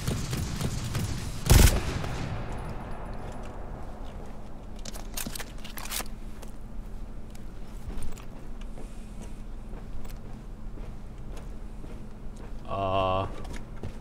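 Gunfire in the co-op shooter GTFO, a loud sharp burst near the start and scattered fainter shots and clanks later, heard under a voice chat of players talking throughout.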